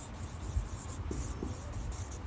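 Writing on a board during a chemistry lesson makes faint, quiet scratching and rubbing strokes under a low background hum, with no talk.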